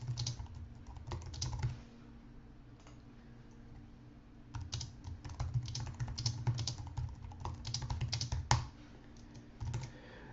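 Steady typing on a computer keyboard, with bursts of close, quick key clicks broken by short pauses and no voices.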